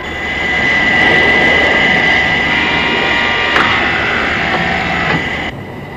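A Thunderbirds jet plane roars past, a loud, sustained rushing engine drone that swells, holds, then cuts off near the end, with no voices.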